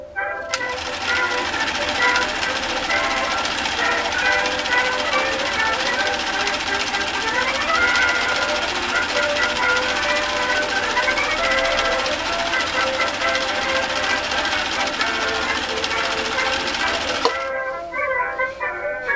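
A Husqvarna Viking sewing machine sews a decorative red stitch, a loud, fast, continuous mechanical clatter of needle strokes that runs steadily for about seventeen seconds and then stops abruptly, followed by a few faint clicks.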